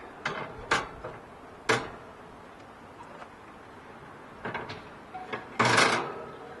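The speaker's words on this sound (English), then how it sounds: "Now let's go ahead and put the heat deflectors in." Metal heat deflectors are set into a smoker grill before a brisket cook, several sharp clanks and knocks spaced apart, quiet between, ending in a longer scraping rattle.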